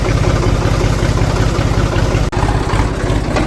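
A tractor engine idles close by with a steady, loud, low chugging rumble and no talking.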